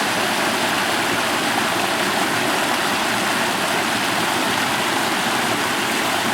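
A stream rushes down near Goblins Waterfall at Lago Gutierrez, a loud, steady, dense roar of churning water that holds constant without pause from start to finish.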